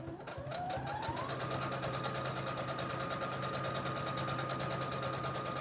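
A sewing machine stitches a beach tote, running in a steady, continuous mechanical whir close by after a short speed-up at the start, with no talking over it.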